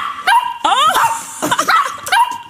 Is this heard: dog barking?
yes